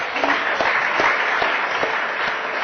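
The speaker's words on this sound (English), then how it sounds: "A big round of applause." A steady wash of audience applause at a fitness technology investor pitching event, many hands clapping at once without a break, loud and close for the whole stretch.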